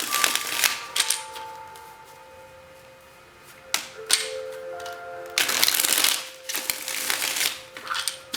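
Cards are shuffled in quick papery bursts, riffled in several separate rounds with short pauses between them, close up and no talking.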